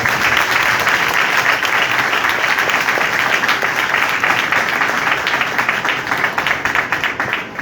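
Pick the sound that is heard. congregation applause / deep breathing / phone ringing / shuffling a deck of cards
congregation applause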